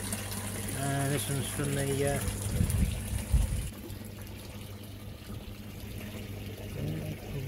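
Water from an aquaponics grow bed returns into a sump below, a steady splashing and gushing flow with a pump running, heard under a voice.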